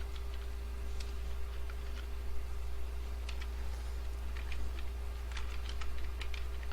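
Keys click on a computer keyboard in short, scattered bursts of light taps over a steady low electrical hum, fairly quiet and close.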